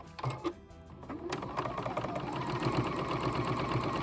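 A sewing machine stitches a quilted ice cream cozy. After a few soft clicks it settles into a steady, quiet, rapid mechanical chatter that runs evenly to the end, with no talking.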